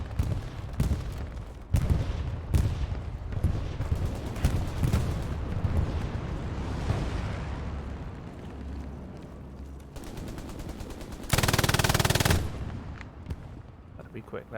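Gunfire aimed at a T-34 tank in the online war game Hell Let Loose, repeated sharp shots and bursts in uneven rhythm with one long heavy blast near the end, under intermittent team voice chat.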